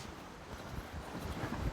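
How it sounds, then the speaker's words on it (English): Steady outdoor wind rumbling with a broad wash of noise, like gusts blowing over breaking waves, continuous and fairly loud with no voices. "You can hear the wind battering off the waves and that."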